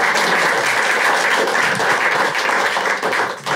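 A comedy club audience applauding loudly at a stand-up show, dense steady clapping that holds for a few seconds before tapering slightly.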